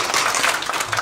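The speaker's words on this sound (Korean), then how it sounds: "크게 한번 박수." A church congregation bursts into brief, dense applause, with many hands clapping together loudly and close for about a second.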